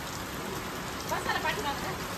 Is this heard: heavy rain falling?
yes